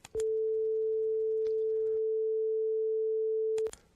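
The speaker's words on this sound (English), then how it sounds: "First, the 440 Hertz on the left." A steady pure 440 Hz test tone plays on the left channel, starting and stopping abruptly and holding a constant, clean pitch for about three and a half seconds.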